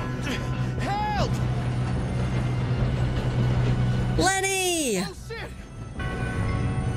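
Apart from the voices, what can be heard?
train running on rails in Red Dead Redemption 2 video game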